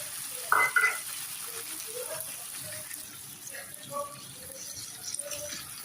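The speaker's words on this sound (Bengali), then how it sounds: "এবার আলুর সাথে ওল আর চিংড়ি মাছটা ভালো করে একটু কষিয়ে নেব।" Boiled elephant foot yam, fried prawns and soft potatoes being stir-fried together in a pan, giving a low steady sizzle with a few louder clanks of a spatula near the start and occasional scraping later on.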